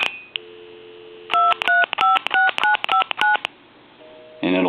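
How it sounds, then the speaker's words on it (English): A foreign desk-style telephone being dialed, with a steady dial tone followed by a loud series of about nine short touch-tone beeps in an even rhythm, then a brief pause and a busy signal starting at the end. "I want to dial my number."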